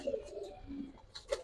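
A pair of pigeons, a black-tailed breed, coo in soft low burbling calls close by, a few short phrases over quiet background rustle.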